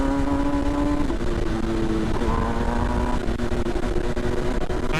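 An MV Agusta Brutale 1000RR motorcycle on the move, its engine droning steadily with rising and falling pitch through the gears, loud and close against constant wind rush.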